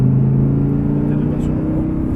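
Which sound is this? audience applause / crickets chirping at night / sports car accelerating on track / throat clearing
sports car accelerating on track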